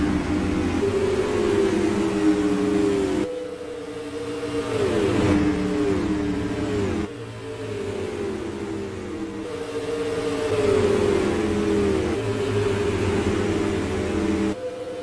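Supermodified race cars in the rFactor sim racing game rev their engines loudly and continuously, the pitch rising and falling in repeated waves as they accelerate and lift through the turns at a Redball oval race, with no voices.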